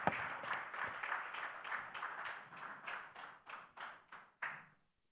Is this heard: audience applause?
yes